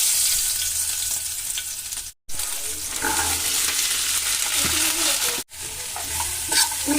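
Hot ghee fries and sizzles in a pan for a potato-pea curry, a loud, steady crackle heard close up with stirring scrapes and two brief cutouts.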